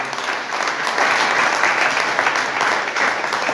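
A congregation at a worship service breaks into loud, sustained applause, a dense wash of clapping that holds steady for several seconds.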